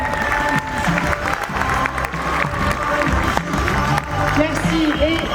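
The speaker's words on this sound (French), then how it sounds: "On peut l'applaudir s'il vous plaît" Audience applause and some cheering for a contestant at a Miss Ile de France pageant, a dense, steady clapping crowd with voices and music mixed in underneath.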